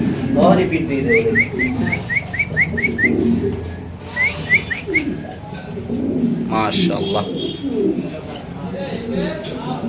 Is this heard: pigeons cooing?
yes